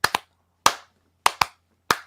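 Sharp hand claps ring out in a loose rhythm, six crisp claps in quick pairs and singles, close and clear against silence.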